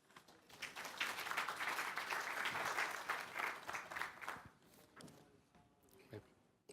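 Audience applause at a keynote address on the ASEAN Economic Community, a dense sustained clapping from a large crowd that swells for several seconds, then thins into scattered claps and fades.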